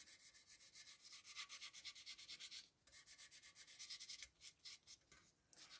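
Steady rhythmic rubbing strokes of fine sandpaper on Milliput filler in a porcelain repair, close and fairly quiet, with short pauses between bursts.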